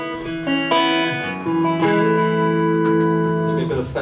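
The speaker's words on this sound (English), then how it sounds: "I'll put a bit of reverb on from the Flint." Electric guitar through a Victory amplifier with reverb from a Flint pedal adds a lingering tail. Long sustained notes and chord swells ring out, close and loud, with a few softer picked accents.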